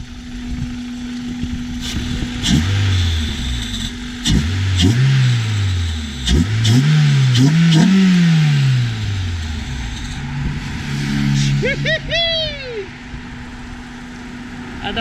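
A car engine fitted with a new Typhoon intake revs up repeatedly in loud, rising bursts close by, then settles toward idle, with a voice briefly heard over it.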